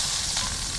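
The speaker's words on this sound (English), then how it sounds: "We're gonna deglaze with the red wine." Red wine is poured into a hot pan holding tri-tip beef, setting off a loud, dense hiss and sizzle that runs unbroken and close for under a second.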